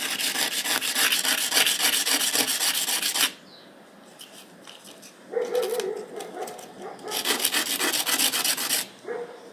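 Steady scratchy rubbing of sandpaper against a small hard mosaic tile piece, in several bursts with short pauses, close and fairly loud.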